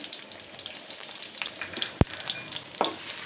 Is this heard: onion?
yes